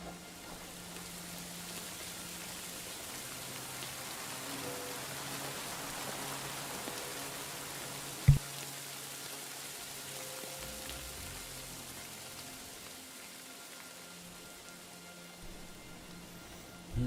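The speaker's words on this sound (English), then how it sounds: "Pissing down again." Rain falling in the video game Kingdom Come: Deliverance II, a soft continuous hiss of drops on surfaces with a brief sharp click midway and no speech.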